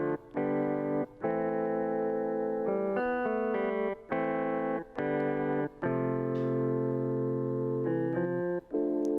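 A distorted electric guitar plays a melodic line of sustained, gritty notes with short pauses between phrases, loud and up front with a chorus-like shimmer.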